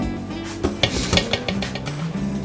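Dry lima beans dropped into a pot, a run of several sharp clinks and rattles against the metal over about a second, close and moderately loud.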